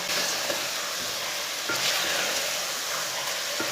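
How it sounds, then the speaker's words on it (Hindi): Beef fries in a pot with a loud, close, unbroken sizzle and hiss, broken by a few soft stirring knocks against the metal. "गोश्त को ना लाजमी भून लेना।"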